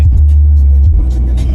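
A car engine rumbles steadily and close while driving, a deep, loud low drone that holds for a moment, dips briefly, then carries on with a faint hiss of road noise and no talking.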